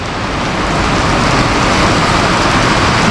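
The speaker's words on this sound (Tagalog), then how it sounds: "Umulan na ng umulan." Rain falls as a loud, steady broadband hiss and patter, close and unbroken for the whole stretch with no voices.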